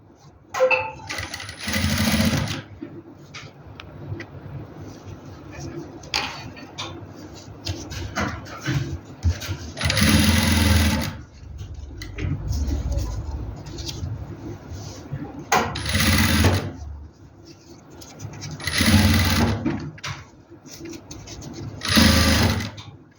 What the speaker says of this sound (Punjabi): ਇਹ ਆਪਾਂ ਕੱਚੀ ਸਲਾਈ ਲਾਈ ਆ ਆਪਾਂ ਬਾਅਦ ਚ ਇਹਨੂੰ ਕੱਟ ਦਾਂਗੇ